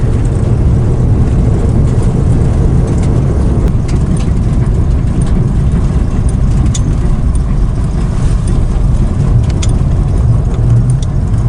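A car nicknamed Teal Terror driving on a road just after its first start, with a loud, steady low engine drone and road rumble filling the cabin the whole time, with occasional faint ticks.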